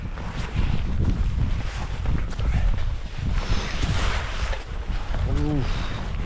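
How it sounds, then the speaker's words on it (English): Strong winter wind gusting through a snowy campsite during a winter storm, a continuous rough roar that surges and eases, with a voice briefly audible over it. "This wind's killing me."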